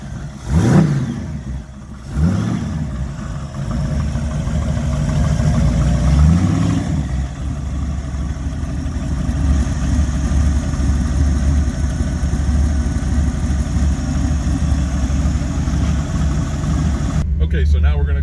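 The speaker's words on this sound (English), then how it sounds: "I'm gonna fire it up so you can hear the engine run" A 1965 Chevrolet Nova engine cranks and catches, then settles into a steady, loud, rumbling idle that runs on close to the microphone, with a few blips of revving near the start.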